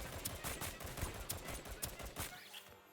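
Rapid gunfire in the video game Deceive Inc, a dense burst of repeated shots in quick rhythm, fairly faint and alone, ending abruptly.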